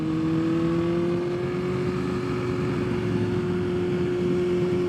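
A 2020 BMW S1000RR sport motorcycle revs hard on a race track, its steady high-pitched engine drone holding loud and continuous with a slight rising pitch through the whole stretch, no voices over it.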